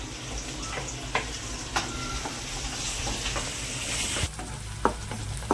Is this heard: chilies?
yes